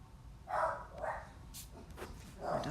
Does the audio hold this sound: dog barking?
yes